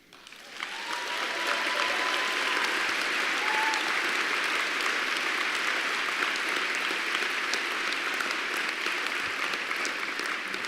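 Sustained applause from a banquet audience at a book awards dinner, rising quickly and then holding steady and full for about ten seconds, with no talking over it.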